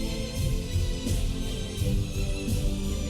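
Sustained applause from a large audience at a high-school student science congress award ceremony, dense and steady clapping throughout with no speech.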